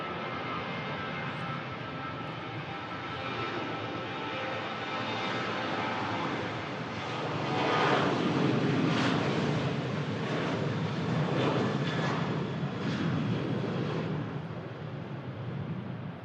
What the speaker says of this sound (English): Dutch Pride, 737 climbs out from Manchester.